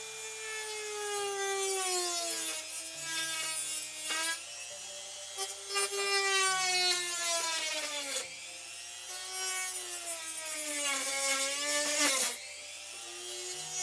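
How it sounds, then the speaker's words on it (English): A Dremel rotary tool grinds on a miniature base, a loud continuous whine whose pitch sweeps up and down as the load changes, with brief pauses between passes. "you guys don't want to listen to a Dremel"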